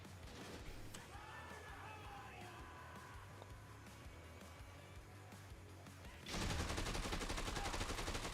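In the video game Dead Rising 2, rapid bursts of light machine gun fire crackle under game noise and shouts, then swell into a louder, denser volley near the end.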